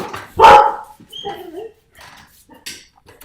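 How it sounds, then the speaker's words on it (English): Dogs bark at a UPS delivery person arriving at the house, one loud close bark followed by shorter yips and whimpers, heard alone without talk. "dogs are alerting me"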